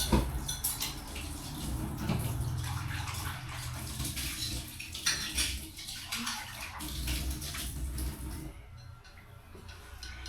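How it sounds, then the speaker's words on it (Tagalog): A dinner plate being washed again under running water, with steady splashing and rinsing punctuated by clinks and scrapes of dishware close by, ending as the water stops. "ito ang akin na plato. Hugasan natin ulit kasi kahapon na hugasan na ito"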